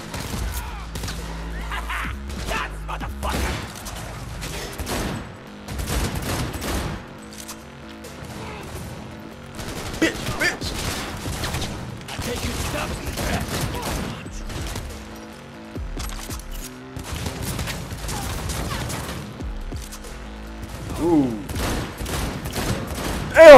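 Gunfire in the video game Cyberpunk 2077 breaks out in loud bursts of rapid shots and impacts, scattered crashes and thuds between volleys, with someone talking at times over the fighting.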